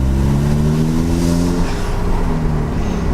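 A Volkswagen or Audi engine fitted with a diverter valve adapter revs loudly and steadily for a few seconds, with a continuous droning engine note and a whooshing rush in the upper range, no speech.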